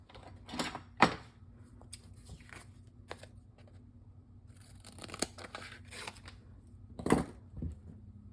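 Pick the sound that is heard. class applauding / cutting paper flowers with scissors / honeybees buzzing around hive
cutting paper flowers with scissors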